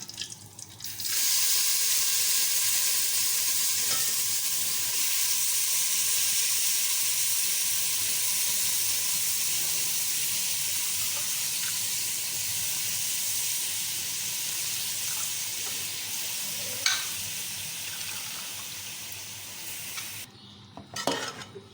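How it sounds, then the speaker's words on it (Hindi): Grated carrots fry in a pan for carrot halwa, giving a steady, dense sizzling hiss that runs unbroken for about twenty seconds, close and loud, with a few faint clinks near the end. "सिर्फ गाजर डालेंगे और इसको फ्राई करके थोड़ा सा"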